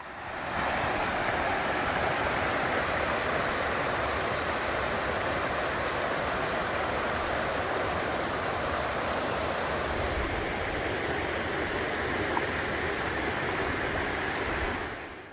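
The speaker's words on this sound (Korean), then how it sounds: "작은 테이블에 앉아 있으면 시원한 바람과 물소리를 같이 느낄 수 있는 포인트입니다" Mountain valley stream flowing steadily nearby, a continuous broadband rush of water holding an even level throughout with no voices.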